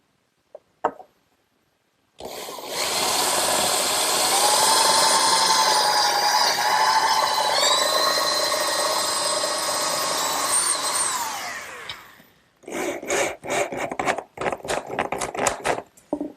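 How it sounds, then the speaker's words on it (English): A power drill bores holes through clamped wooden braces for a garden swing, a loud sustained whine for about ten seconds that shifts pitch as the bit bites, followed by a burst of knocks and handling clatter. "I'm just going to use a clamp to hold it together while I drill the holes."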